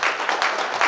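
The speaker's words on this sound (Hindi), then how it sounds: "सर के लिए जोरदार ताली होनी चाहिए दोस्तों" A brief burst of applause for a teacher at a programme in Varanasi, a crowd clapping close and fairly loud for about a second.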